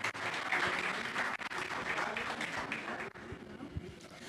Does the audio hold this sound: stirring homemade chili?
no